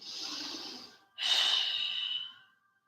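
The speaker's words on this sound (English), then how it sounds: "Last breath here." During a morning yoga flow, a close, airy breath is drawn in and then released as a long, deep exhale, soft and unhurried with a brief pause between the two.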